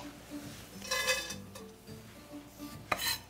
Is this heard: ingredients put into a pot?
yes